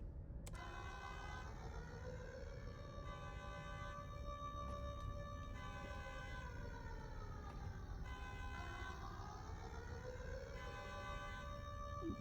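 A video game siren from Starbase wails in long rising and falling sweeps, steady and continuous over a low droning background, fairly quiet overall and without talk.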